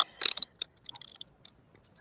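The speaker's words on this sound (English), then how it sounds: "Who's chewing on something?" Someone chews nearby, a quick burst of crisp crunchy bites followed by softer scattered chewing clicks fading out, with no talk.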